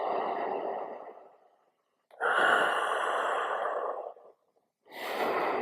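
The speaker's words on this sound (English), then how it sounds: "So you can breathe in through the mouth" Slow, deliberate breaths during a breathing exercise: a long airy inhale through the mouth, a pause, then a breath out through the nose, followed by a brief silence and another breath beginning, close and quiet with no talking.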